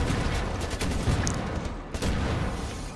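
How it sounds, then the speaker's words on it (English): Rocket launcher firing amid heavy combat in Wolfenstein: The New Order, a dense barrage of loud explosive blasts and gunfire rolling on continuously, close and loud with no talking. "reload and rocket launcher this guy"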